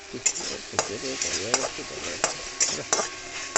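Food being stirred in a hot pan while making homemade bhaja with curry powder and garam masala, a steady sizzle with repeated scraping strokes of a spoon against the pan and occasional utensil clinks, close and fairly loud.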